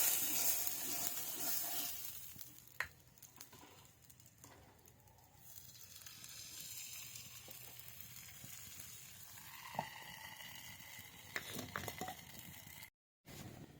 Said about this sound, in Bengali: আরও কত রকম পিঠে ভাজছি